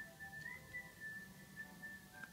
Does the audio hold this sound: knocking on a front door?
no